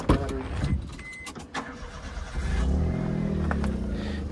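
A car engine cranks and catches near the start, then settles into a steady low idle, close by, with a few clicks and knocks before it fires.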